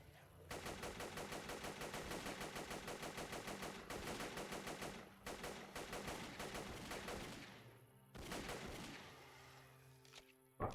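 Sustained rapid machine gun fire from robots in the video game Zomborg, loud and continuous bursts with brief gaps, ending in a sharp final shot, with no talk over it.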